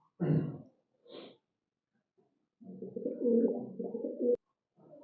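Domestic pigeons coo close by, first in two short separate calls and then in a longer throaty burst of rolling coos, with quiet gaps between them.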